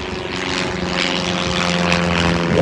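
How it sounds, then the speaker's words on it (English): A propeller aircraft drones steadily overhead during storm chasing outdoors in the UK, a continuous engine hum that holds at an even level for the whole stretch. "Sometimes you get aircraft flying around."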